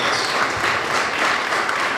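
Audience at a Latino contractor summit held by a Hispanic chamber of commerce, applauding with a dense, steady patter of many hands clapping at a consistent level throughout.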